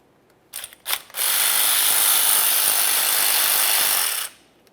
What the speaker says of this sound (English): snug the bolts.